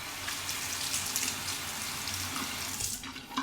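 Tap water runs steadily into a sink while a razor is rinsed during a wet shave, a continuous close splashing hiss with no talking.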